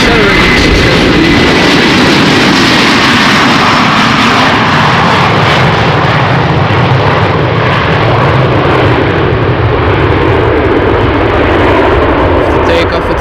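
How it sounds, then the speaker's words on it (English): An Airbus A330 jet roars loudly on takeoff at Amsterdam Schiphol, a continuous heavy engine rumble sustained throughout as the aircraft accelerates, with a voice faintly under it. "In the meantime, the other A330 is taking off successfully."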